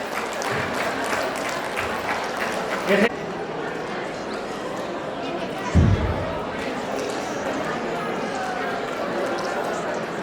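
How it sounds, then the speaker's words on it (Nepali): Audience applause at a Tamu community Syo Kai gathering in Pokhara, a steady, dense wash of many hands clapping that runs throughout, with a couple of louder thumps partway. "कृपया ताली बजाइनुहोस्।"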